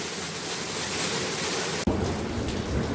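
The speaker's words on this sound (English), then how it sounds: "And now we've got a thunderstorm starting." Heavy rain pours steadily during a thunderstorm in Perth, Western Australia, a broad dense hiss that jumps louder and rougher near the two-second mark after a brief gap.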